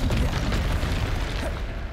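A magical Bombarda spell blast in Hogwarts Legacy, a loud, deep, rumbling boom that fills the whole short moment and slowly fades.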